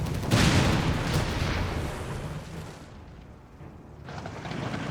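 Vehicle hitting a mine in the strategy video game Company of Heroes 3, a loud blast that swells into a long rumbling roar, briefly fades and then rises again, with no voices.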